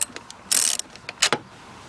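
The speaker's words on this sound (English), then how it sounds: "It's just a 10mm socket. Just loosen it." A ratchet fitted with a 10mm socket loosens the battery clamp on a Jaguar X-Type, giving short bursts of quick metallic clicking separated by brief pauses, close and fairly crisp with no talk.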